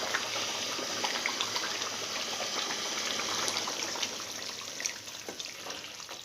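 Coconut milk pours steadily into a simmering chicken curry with potato, a soft, continuous liquid gush and trickle heard close and fairly quiet, with no talking.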